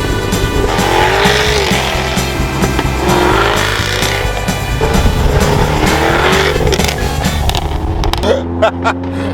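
A powerful car engine roars loudly past, rising and falling with tire noise before cutting to a quieter idle at the end.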